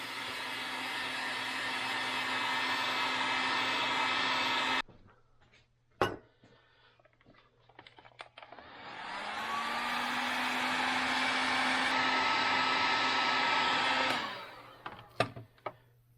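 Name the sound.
heat gun warming a motorcycle fork stem part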